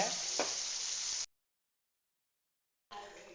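Steady broadband sizzling of eggplant and ground masala paste sautéing in a pan, with a brief stir noise, a sudden silence, then the sizzle resumes.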